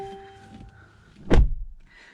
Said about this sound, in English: The door has that nice noise when it closes.